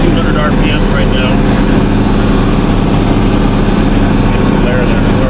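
A tractor engine running at about 2,200 RPM while plowing a hay field, a loud, steady low-pitched drone that stays constant throughout, close to the microphone, with faint talk buried underneath.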